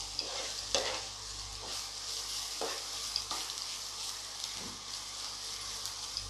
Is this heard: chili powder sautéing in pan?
yes